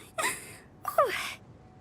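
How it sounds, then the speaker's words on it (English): A game character in Genshin Impact lets out a short, light two-part sneeze, a quick intake followed by a bright burst, close and clear against a quiet background. "That was the cutest sneeze ever."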